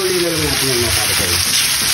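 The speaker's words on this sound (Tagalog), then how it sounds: "So, igisa lang" Food sautés in hot oil in a pan, a loud close sizzle that runs steadily through the short stretch while someone speaks over it.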